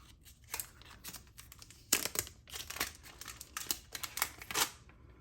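Plastic wrap crinkles and tears as it comes off an Apple 140W USB-C power adapter, in close, irregular bursts of rustling with short pauses between them.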